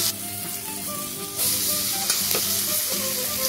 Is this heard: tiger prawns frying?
yes